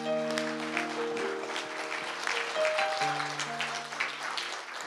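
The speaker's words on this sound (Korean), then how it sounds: "큰 박수로 모시겠습니다" Applause from an indoor audience in a conference hall, welcoming the head of an advocacy group to the stage at a political civic assembly; steady clapping throughout, with sustained musical tones underneath.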